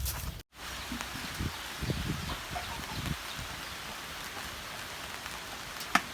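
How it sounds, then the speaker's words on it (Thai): Rain beginning to fall outdoors in a rural Thai setting beside a charcoal stove, a soft continuous patter with a few rustling, thumping movements nearby and one sharp click near the end. "ฝน มาแล้วยาย"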